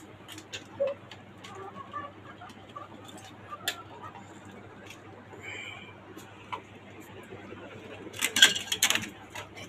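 Tiger and local breed chickens kept in cages on a five-storey rooftop farm in Dhaka cluck and squawk in scattered bursts, with some metallic rattling and a louder flurry of activity near the end.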